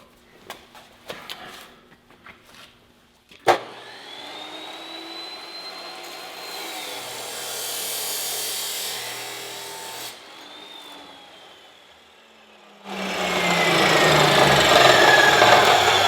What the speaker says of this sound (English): we're just gonna chop into this 1 inch square tube